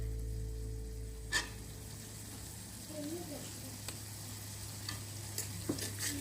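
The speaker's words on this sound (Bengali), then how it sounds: "এটাকে ভালোভাবে কষিয়ে নিব।" Ginger-garlic paste, salt and spices are fried in a pan for a dried fish curry with taro stolons and jackfruit seeds, giving a quiet steady sizzle with occasional stirring clicks over a low hum.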